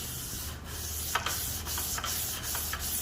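Rhythmic rasping strokes of sandpaper rubbing on a UPVC window frame before painting, about six passes at an even pace, close and fairly quiet over a low background hum.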